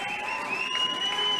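Arena crowd at an XFC fight night cheering and applauding, a brief, steady burst of whoops and clapping with a high tonal whistle running through it.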